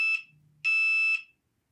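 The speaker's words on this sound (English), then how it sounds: "That's my phone, guys. It's beeping at me." A phone sounds a text message alert: two loud, high electronic beeps, the second longer, close and alone, ending abruptly into silence.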